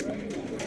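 Fancy pigeons coo softly at a pigeon club show, a low continuous murmur with faint voices mixed into the background.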